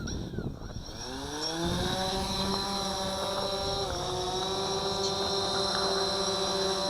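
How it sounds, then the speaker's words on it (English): A DJI Phantom 4 Pro quadcopter drone spins up its rotors and lifts off, the whine rising quickly in pitch and then holding a steady, loud, close buzzing hum. "So hitting takeoff again, which is this button here. And sliding to take off."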